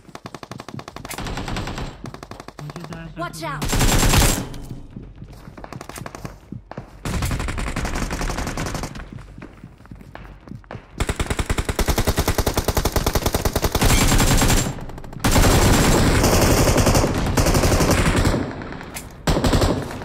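Gunfire from a rival team in a battle royale game rattles in repeated bursts of machine-gun fire with scattered single shots, loud and dense throughout, while a voice briefly calls out.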